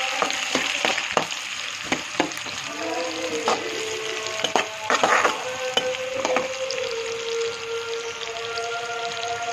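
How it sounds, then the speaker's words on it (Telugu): Cumin seeds and chopped onions sizzle in hot oil in a pan for prawn curry, a steady frying crackle broken by clinks and scrapes of stirring, with no talk. "జీలకర్ర వేసుకోవాలి, ఆనియన్స్ వేసుకోవాలి. బాగా ఫ్రై చేసుకుందాం."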